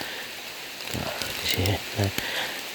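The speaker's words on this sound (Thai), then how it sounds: "โอ้ฝนตกครับ" Heavy rain falls outdoors at a temple in Thailand, a steady hiss of drops throughout, with someone speaking briefly over it.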